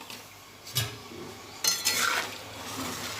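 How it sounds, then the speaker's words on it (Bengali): A spoon stirs masoor dal with salt in a pot. A few distinct scraping sweeps stand out against a quiet, faint simmering background, with no one speaking. "ভালোভাবে মিশিয়ে দিচ্ছি"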